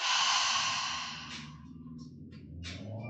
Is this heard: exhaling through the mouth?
yes